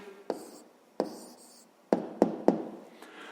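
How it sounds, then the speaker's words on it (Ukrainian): A pen writes down the answer to a fifth-grade maths problem by hand, a series of short, quiet scratching strokes close to the microphone, with a few sharper bursts near the end. "Ну що ж, записуємо відповідь."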